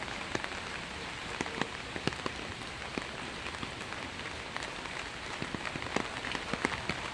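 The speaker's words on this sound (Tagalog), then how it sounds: "Medyo humina na yung ulan kaya lumabas ako." Steady rain patters on surfaces nearby, a soft continuous hiss with scattered distinct drips, fairly quiet and without voices.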